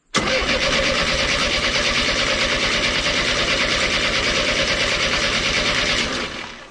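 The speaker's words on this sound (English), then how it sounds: "Let her prime up. Fuel pump ain't sounding any different." A junkyard Chevy S10 pickup buzzes loudly and evenly with a fast mechanical whir as its fuel pump primes, holding steady for several seconds before fading out, with no talking.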